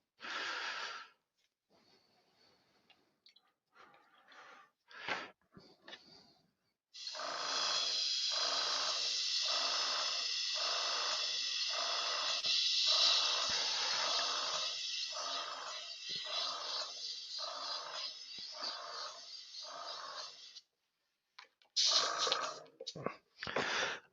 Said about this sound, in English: we're just going to run just a little bit more cleaner through, just to make sure we've got everything cleared out of the airbrush